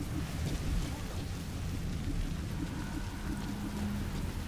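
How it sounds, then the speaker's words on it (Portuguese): Sandstorm in the Metal Gear Solid V video game: a constant, dense roar of wind and gritty noise with a low rumble underneath, steady throughout. "Tempestade de areia veio do nada"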